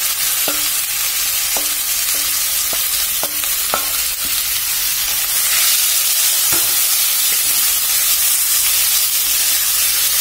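A fish head frying in hot oil gives a loud, continuous sizzle and hiss, punctuated by several sharp clinks of a utensil against the pan in the first few seconds and a couple more later.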